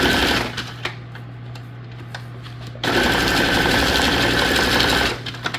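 Sewing machine stitching paper tags for a junk journal, a steady dense mechanical whirr in two bursts, close and loud, with soft paper handling in the quiet gap between them.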